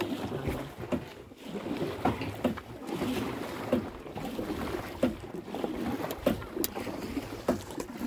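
A motorboat rides across the crater lake of Laguna Verde near Apaneca, with a constant rumble of water and wind buffeting the microphone. Occasional knocks and splashes cut through the steady wash.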